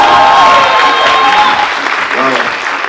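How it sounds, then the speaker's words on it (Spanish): Loud applause from a crowd at a third-anniversary company dinner in Bogotá, steady clapping filling the room while voices talk underneath. "Por favor, un fuerte aplauso nuevamente para Regino Blanco."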